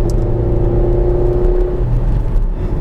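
A Ford Focus drives briskly through a series of corners on a road, its engine giving a steady close whir and low rumble that holds an even tone before easing slightly, with no voices present.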